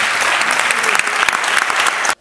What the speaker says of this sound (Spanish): un aplauso para Tomás Blanco